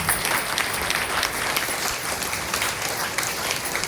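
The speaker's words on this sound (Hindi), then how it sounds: "हमारे आदरणीय माजी सर के लिए जबरदस्त ताली होना चाहिए" An audience applauds a respected mentor at a DXN success-story gathering, dense continuous clapping from a crowd filling the whole stretch with no talk.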